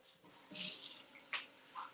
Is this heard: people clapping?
no